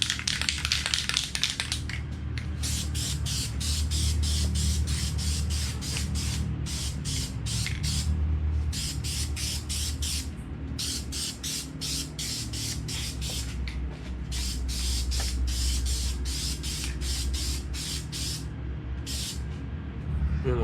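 Spray can laying a light dust coat of tint onto Subaru WRX wagon lights, heard as a series of short hissing bursts close by, each lasting a second or so and separated by brief pauses, over a low background hum.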